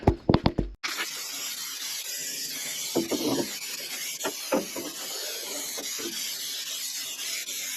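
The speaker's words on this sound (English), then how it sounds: "spray some paint here" A brief rattle and knocks, then a long steady hiss of an aerosol spray paint can on a service truck, punctuated by a few soft taps and clicks.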